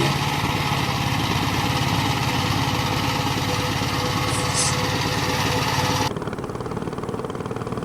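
An old 20th-century walk-behind tractor's small engine runs steadily nearby with a fast, buzzy chug that drops slightly in level near the end.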